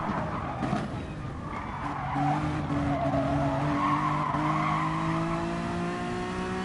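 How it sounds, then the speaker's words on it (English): BMW and NSX race cars duel in a racing video game, engines droning steadily with rising and falling pitch as they run side by side, tires squealing and skidding throughout with no talk. "And there we have the BMW and the NSX at battle."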